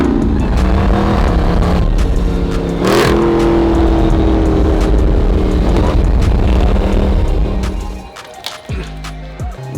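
A Jeep Trackhawk engine drones loudly and steadily while driving around town, with rising and falling revs and one sharp rev burst, then eases off near the end, heard close from inside.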